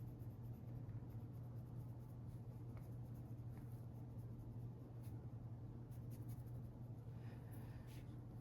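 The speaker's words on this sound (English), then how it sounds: "I'm just gonna burnish the rest of it with the true green" Steady scratchy strokes of a Prismacolor Premier colored pencil burnishing true green over a coloring-book page, a continuous close, soft scraping with a low hum beneath.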